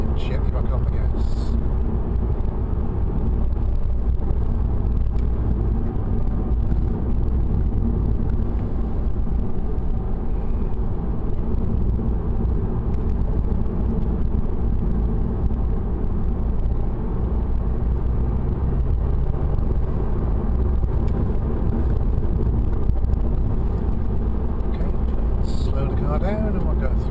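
A car engine hums and rumbles steadily as it drives and picks up speed, a constant low, loud drone from inside the cabin that runs for the whole stretch, with people talking over it at times.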